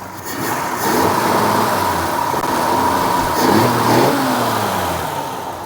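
The engine of a 1948 Lincoln Continental revs up smoothly from idle, holding a loud, steady drone that swells a couple of times and then eases back down.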